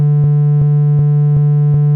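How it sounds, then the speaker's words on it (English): A Serum synth oscillator for a hardcore kick plays a near-sine tone with a few added harmonics, a loud steady low hum broken by faint regular clicks about every third of a second. "I wanted something that's close to a sine wave, but already contains a few harmonics"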